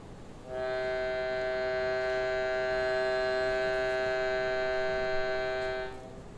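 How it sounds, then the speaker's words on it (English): A handheld shruti box reed drone swells in, holds one rich, buzzy chord for about five seconds, then fades out, with no voices. "handheld instrument where you bellow air into it and it vibrates reed."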